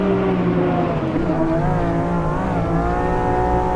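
A DPi prototype race car in the racing game Automobilista 2 accelerates hard at Daytona, its engine a loud, continuous roar that climbs steadily in pitch.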